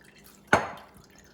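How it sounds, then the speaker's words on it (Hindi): A single drip of water falls from grated mooli (white radish) squeezed by hand, a sharp close splash that fades quickly in a quiet kitchen. "मैं इसको बहुत अच्छी तरह से पानी दबा दबा के निकाल रही हूँ"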